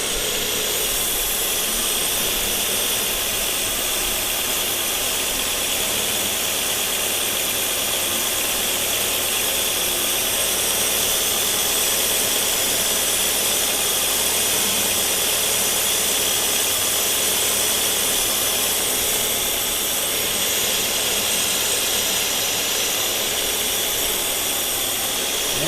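The engine of a Mazda Miata drift car runs in a continuous, loud, broadband roar that holds steady for the whole stretch, with no clear revving. No one talks over it.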